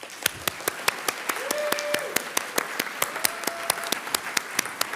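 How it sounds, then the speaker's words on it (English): An audience applauds graduates at a Master of Nursing hooding ceremony, with sharp, fairly regular claps standing out over a softer wash of clapping and a faint sustained tone. "Let's give another round of applause to all the graduates."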